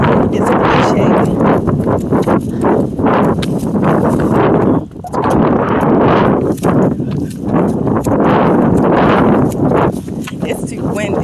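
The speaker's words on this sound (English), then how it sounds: "It's too windy." Strong outdoor wind buffets the microphone almost continuously, a loud rumbling roar with gusts that rise and fall and one brief lull midway.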